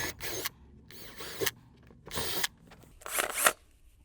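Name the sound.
power drill drilling holes in wall with 3/16 inch bit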